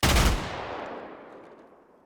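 An honor guard fires a single rifle volley in a salute, one loud sharp crack ringing out and then fading through a long echoing decay.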